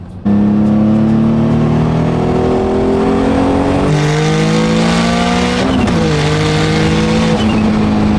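A loud car engine revs steadily to over-rev, its pitch climbing through gears with brief drops between shifts, close and continuous.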